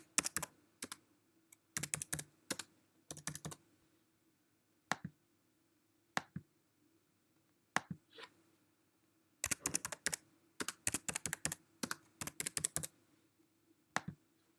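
Bursts of quick typing on a computer keyboard, with crisp key clicks in clusters separated by short pauses, close and alone in a quiet room.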